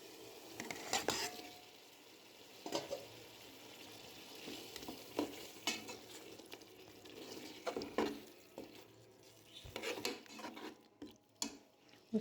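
Beef being stirred into mashed tomatoes in a pot for degi beef pulao, with soft sizzling and repeated scraping stir strokes close by, no talking.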